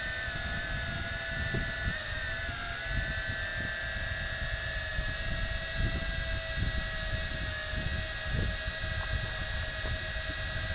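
A Tarantula X6 camera drone hovering and drifting in a crosswind, a steady high-pitched rotor whine with buffeting wind noise underneath, continuous and moderately near, no talking.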